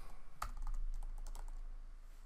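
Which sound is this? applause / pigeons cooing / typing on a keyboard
typing on a keyboard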